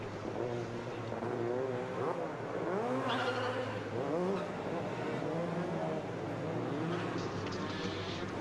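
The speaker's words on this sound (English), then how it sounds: "Cars heading around on lap 4 of 11 here in Macau under safety car conditions" Touring race cars circle the Macau street circuit on lap 4 of 11 under safety car conditions, their engines droning and rising and falling in pitch as they pass, while a commentator speaks over them throughout.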